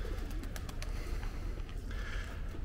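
Low, soft pigeon coos repeat a few times amid outdoor city background noise near new apartment buildings outside Kyiv.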